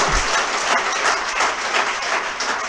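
A classroom audience applauds loudly and steadily, a dense wash of many hands clapping together with no voices over it, holding at full strength from start to finish.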